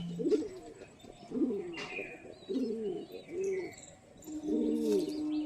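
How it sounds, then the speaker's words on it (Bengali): A domestic pigeon coos softly and rhythmically nearby, several low, rolling coos in a row, with faint chirps of other birds in the background. "পায়রাটা খুবই সাধারণ একটি পায়রা, কিন্তু পায়রা খুবই হাই ফ্লেয়ার"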